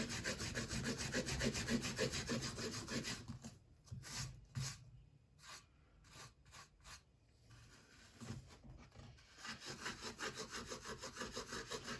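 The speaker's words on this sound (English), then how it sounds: "Probably should have used a better piece of steel wool." Steel wool scrubs over a Bacta Tank model during weathering, a close, steady scratchy rubbing at the start and end, with a broken stretch of short separate strokes in the middle.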